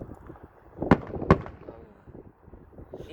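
Fourth of July fireworks at Biggs Field, two sharp booming bursts close together from a moderate distance, with faint crowd murmur and low background noise between them.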